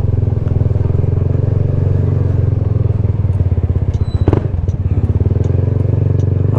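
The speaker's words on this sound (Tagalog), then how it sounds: "May tunog din pag bumomba ka." Kymco Xciting 400i scooter engine running close by with a steady low drone, rising into a brief rev burst with some clatter near the middle before settling back to idle.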